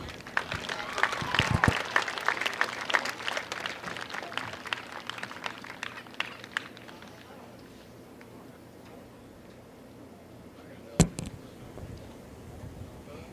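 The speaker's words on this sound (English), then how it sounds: "Let's have one more round of applause for our seniors." Outdoor crowd applause at a high school varsity baseball senior night between East Henderson and Franklin, scattered clapping and cheering that thins out over several seconds, followed by a lone sharp clap.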